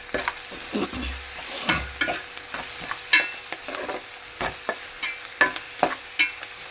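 Onions frying in a pan with salt, giving a steady close sizzle punctuated by irregular scraping knocks of stirring.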